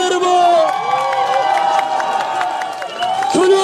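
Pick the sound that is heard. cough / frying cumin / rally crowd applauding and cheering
rally crowd applauding and cheering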